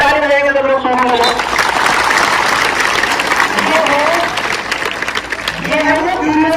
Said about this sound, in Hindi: ताली बजाएंगे सब लोग